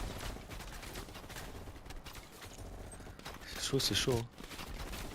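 Video game gunfire from Call of Duty Black Ops cracks in a short rapid burst over a busy battle mix, while a French-speaking player talks over the action.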